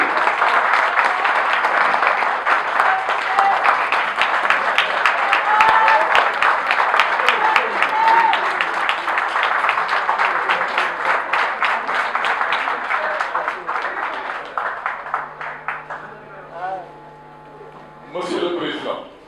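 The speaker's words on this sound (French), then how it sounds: "je demande à l'assistance d'applaudir pour M." Audience applause at a local election campaign event in Senegal, a long stretch of loud, steady crowd clapping that gradually thins and fades toward the end, with a voice speaking briefly as it dies down.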